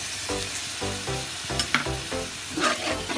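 Ginger paste and green chillies sautéing in a pan for dried fish biryani, a loud continuous sizzle broken by repeated rhythmic scrapes of a spoon stirring, close up with no talking.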